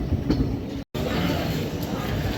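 A passenger train on the Dehradun to Amritsar route rolls along the rails just past Bais junction, with a loud, steady rumble and rattle heard from on board and one brief cutout.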